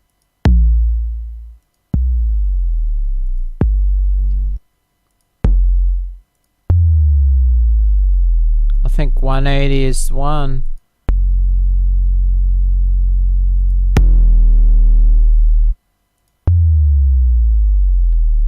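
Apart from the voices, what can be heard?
synthesizer sub bass sounds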